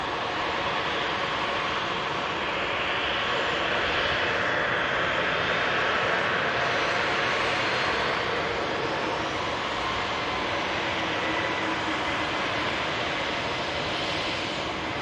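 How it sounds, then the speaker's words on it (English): An Air France Hop airliner arriving from Paris Charles de Gaulle at Manchester Airport produces a continuous loud engine roar and rushing wash that holds steady throughout, with no voices. "Air France hop coming in from Paris. Charles de Gaulle just vacated the runway."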